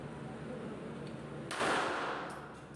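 A gunshot rings out on a security training firing range during marksmanship practice, one loud sharp report over steady background noise, with a slight echoing tail.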